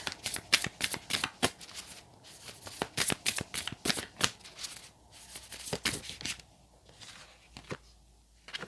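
Oracle cards being shuffled by hand, a close, steady series of crisp flicking riffles that thins out toward the end, with no talking.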